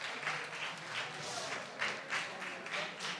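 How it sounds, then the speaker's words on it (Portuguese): Applause from a youth camp audience for a participant named Milena, a soft, fairly distant patter of clapping with a few louder bursts across a few seconds, no speech over it. "Salve de palmas para a Milena aí"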